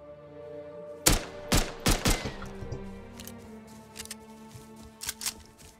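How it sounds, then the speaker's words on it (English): Gunfire in the video game Rust, a quick cluster of four sharp loud shots around the second mark followed by sparser, fainter shots and cracks over a low background hum. "By shooting at them right as morning came, I had revealed my position."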